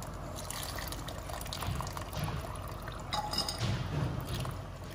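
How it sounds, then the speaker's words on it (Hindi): Strained soaked tamarind water is poured into boiled chickpeas, a steady soft liquid splash and trickle that continues quietly throughout with no talking. "जो हमने इमली भिगोई थी अब हम इसको छान के अपने चनों में डालेंगे।"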